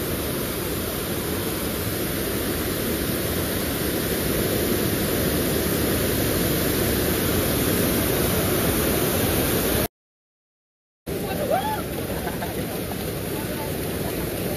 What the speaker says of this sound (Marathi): धबधबा बघा काय एक नंबर आहे